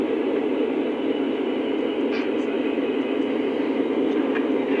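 A Lionel Panama Canal Railway SD40-2 model locomotive runs steadily along the track, giving a continuous loud rumbling whir with faint clicks, and no talking over it.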